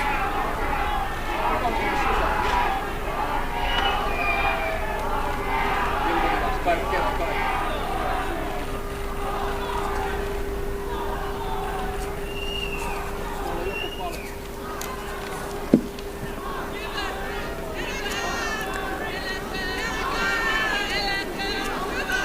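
A large outdoor crowd at Market Square during a presidential inauguration gives off a steady, dense hubbub of many voices, with no single voice standing out, and a brief sharp knock near the end.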